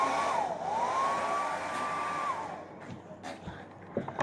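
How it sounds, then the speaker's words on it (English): A handheld blow dryer whirs steadily with a high, whining motor tone for about two seconds, then shuts off and leaves faint room clatter and small knocks. "whenever heat is applied on something to a dryer, a blow dryer"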